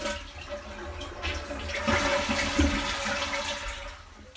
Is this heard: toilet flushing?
yes